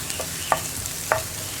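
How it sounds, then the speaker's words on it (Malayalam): Soft sizzling of onions sautéing in a pan with a couple of brief scraping stirs, no voices, quiet and close. "ഇതൊന്ന് ഞാൻ വഴറ്റിയെടുക്കട്ടെ."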